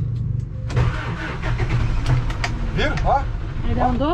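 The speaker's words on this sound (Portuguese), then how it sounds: "Eu tô com a primeira engatada, tô pisando na embreagem, vou tirar o pé do freio, ó, e vou tentar dar a partida para vocês verem" A broken-down motorhome's engine cranks and catches with the clutch pressed and first gear engaged, then runs roughly and labors close by while people talk over it.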